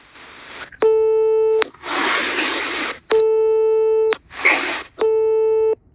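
Repeated electronic beep tones cover redacted content in a recording, alternating with bursts of hissing noise in a regular on-off pattern, loud and close.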